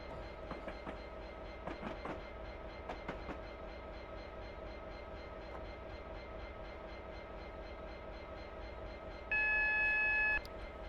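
A train braking on the Settle to Carlisle line in a train simulator game, with steady rumbling wheel noise, a few clacks over rail joints, and a short horn blast near the end.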